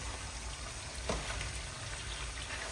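Beef sizzles in a pan while being moved around, a steady, dense frying hiss close by with a brief scrape midway and no talk.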